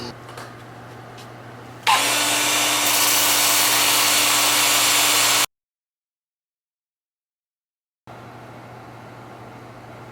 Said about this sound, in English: Of course, I will sand it all with finer grit up to 400.